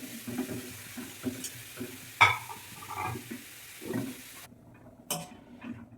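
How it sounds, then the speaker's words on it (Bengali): Finely chopped bottle gourd fries in ghee with a soft, low sizzle, punctuated by intermittent spoon clinks and stirring scrapes against the pan. "এবারে একে ঘিয়ে ভেজে নেবো সুন্দর করে।"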